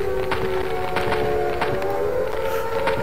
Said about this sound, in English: there are air raid sirens